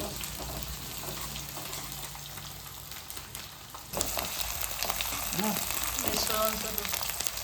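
Onion and garlic frying in a pan for North Karnataka style stuffed brinjal palya, a steady close sizzle that grows louder midway, with faint voices in the background.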